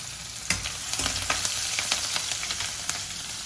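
Green chillies fry in hot oil for upma, a close, steady sizzle with frequent sharp crackles and pops scattered throughout.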